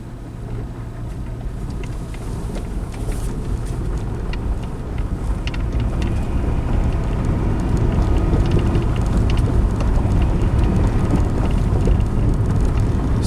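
A Dodge Neon in limp-home mode drives in first gear with a steady, loud low engine drone and road rumble. Wind buffets the microphone throughout.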